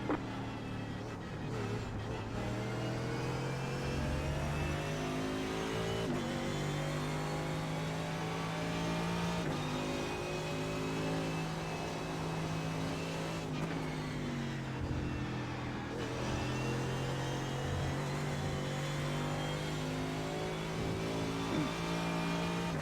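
Race car engine in iRacing at Donington, heard from the cockpit: a loud, steady droning roar that rises through the revs and dips at gear changes and corners over a long stretch, with no talk.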